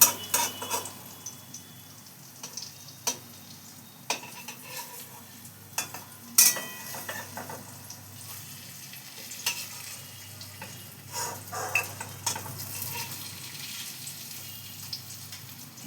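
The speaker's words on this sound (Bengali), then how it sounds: "যেরকম করে আমরা বড়া ভাজি ঠিক সেইভাবেই ভেজে নিচ্ছি আর কি।" Snake gourd fritters coated in lentil paste fry quietly in a pan, giving a soft sizzle broken by scattered sharp clicks and scrapes of a spatula against the pan, with no one talking.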